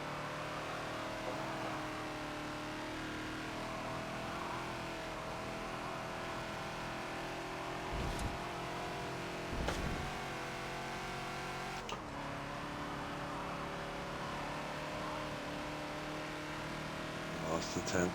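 A Ford Falcon XB races around Maple Valley in Forza with a steady, droning engine note that rises and falls under the throttle, marked by a few brief clicks and shifts.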